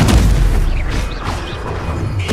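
An Incendio spell in Hogwarts Legacy goes off with a heavy boom at the start, followed by whooshing, rumbling blast debris and a second hit near the end.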